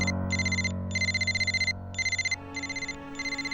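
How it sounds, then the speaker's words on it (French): A telephone rings unanswered in a French cartoon, sounding as repeated electronic trilling bursts separated by short gaps, loud and close over a low background tone. "Allez, remue-toi, Odd, réponds"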